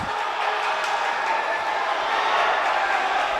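Basketball game crowd cheering in a gym, a steady wash of many voices and shouts lasting a few seconds, loud and continuous with a slight swell toward the end.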